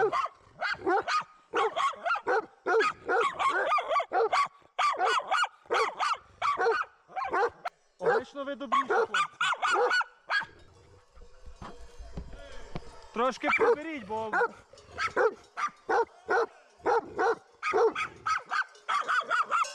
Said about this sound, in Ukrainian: Дуже якісь агресивні собаки.